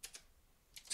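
Computer keyboard typing in two short bursts of a few quick clicks each, near and fairly soft, with a quiet pause between them.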